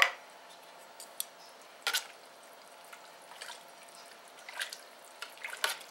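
Canned Great Value peas are poured into a soup pot, heard as faint, scattered wet plops and metallic clinks over quiet background.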